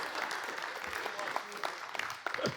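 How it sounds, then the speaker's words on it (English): A seminar audience gives a short burst of applause, a moderate, fairly close clatter of hands with voices mixed in underneath. "round of applause for our cheap AV guy over here"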